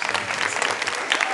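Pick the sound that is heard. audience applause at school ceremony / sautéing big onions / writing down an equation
audience applause at school ceremony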